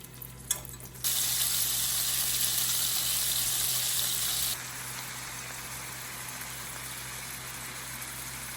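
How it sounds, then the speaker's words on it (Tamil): Shrimp frying in oil in a pan give off a steady, loud hiss of sizzling that starts abruptly after a few faint clicks and later settles to a softer, continuous crackle, with no talking. "இறாலை இங்கே லைட்டாக பொரிய விட்டுருக்குறேன்"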